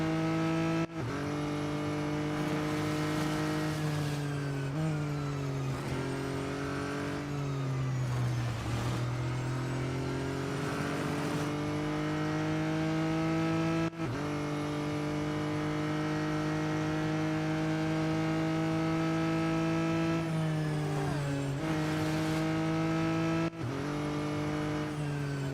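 Race car engines in the mobile racing game Real Racing 3 drone steadily through a lap, with sustained loud harmonic whine, pitch dips and climbs at gear changes and corners, and occasional brief tire squeal.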